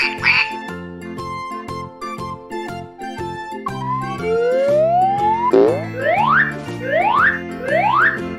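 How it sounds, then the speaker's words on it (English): A cartoonish duck quack repeats several times in a bouncy rhythm, rising slide-like calls over a cheerful synthetic music backing in a children's animal-sounds lesson, close and bright. "Duck."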